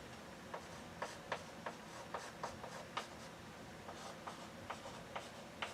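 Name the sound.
pen sketching a curve by hand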